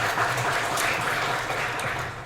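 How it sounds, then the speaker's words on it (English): An indoor crowd at a Shopify-hosted event on paid ads claps steadily, a brief, even wash of applause that tapers slightly at the end. "round of applause for Shopify for letting us have the event here"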